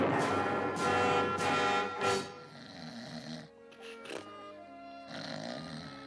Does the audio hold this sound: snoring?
yes